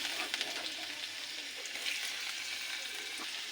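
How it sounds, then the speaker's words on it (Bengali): Panch phoron and chopped garlic hitting hot oil, with a dense, steady hiss of frying that stays even and close throughout, with no voices. "এই তেলে দিয়ে দেবো এবার পাঁচফোড়ন, দেবো রসুন কুচি"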